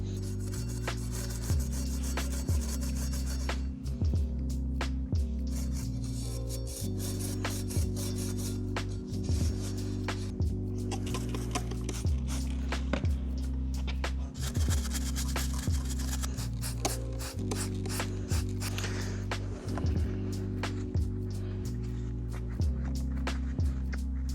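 A Scotch-Brite pad scrubs a Honda Rebel 1100 motorcycle brake rotor during a pad swap, making steady back-and-forth rasping strokes in an even rhythm, close and continuous throughout with no talking.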